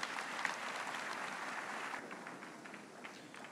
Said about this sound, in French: Applaudissons pour Jésus-Christ.